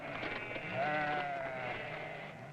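A sheep or goat bleats once in a long, wavering cry from a flock herded by a lone shepherd in the desert, set against a steady, airy background.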